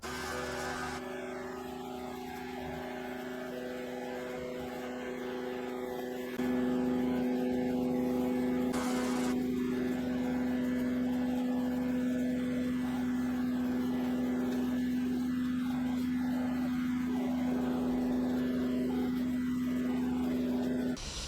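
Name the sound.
machine cleaning a patio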